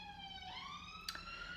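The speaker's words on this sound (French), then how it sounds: "Là, les ambulances qui passent dans la rue" Ambulance sirens passing in a city street, a faint rising wail heard from a distance above steady traffic hum, with a brief knock partway through.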